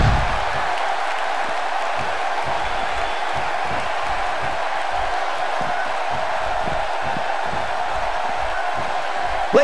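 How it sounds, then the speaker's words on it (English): A large wrestling-event crowd roars and cheers in a steady, loud wash of noise that holds for the whole stretch without a break. "by the sound of this crowd, I think they're getting what they wanted"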